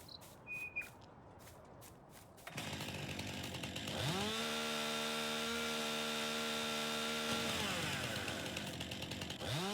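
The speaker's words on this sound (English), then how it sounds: "You have to cut it up with a chainsaw, and then trying to load the trees." A chainsaw cuts trees in Farming Simulator 19, its motor revving up into a loud sustained whine with steady harmonic drone for several seconds before easing off, following a few short knocks and clicks.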